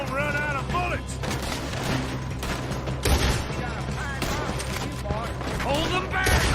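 A Red Dead Redemption 2 gunfight crackles with scattered gunshots and volleys while people shout and talk over the shooting throughout.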